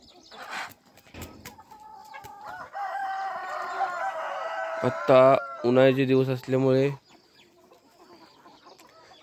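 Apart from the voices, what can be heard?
desi chickens crowing and clucking on poultry farm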